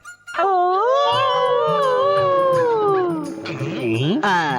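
Dogs howling loudly and close by in long, wavering, rising and falling tones that overlap and go on for several seconds without a break, with no one talking.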